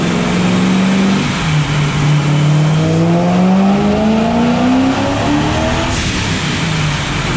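A powerful car engine of over 1,000 horsepower revs loudly and steadily, rising and falling in pitch as it is throttled up, close and alone.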